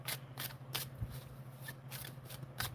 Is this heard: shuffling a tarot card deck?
yes